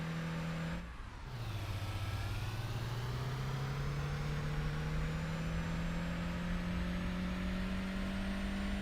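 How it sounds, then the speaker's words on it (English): A truck engine in a video game drones continuously. It dips briefly near the start, then its low pitch climbs slowly and steadily as it strains under load, with no voices. "You guys hear the engine, right? This thing is not liking me at all right now."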